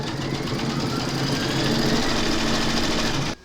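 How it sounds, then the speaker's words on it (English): An embroidery machine stitches a satin-stitch border round on a placemat, a steady, fast mechanical whirring with rapid rhythmic needle pulses that continue evenly before stopping abruptly at the end. "We're now going to stitch round number 8, and that's going to satin stitch all down the joins and around this edge here."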